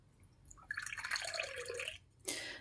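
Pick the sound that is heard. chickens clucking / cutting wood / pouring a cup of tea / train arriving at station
pouring a cup of tea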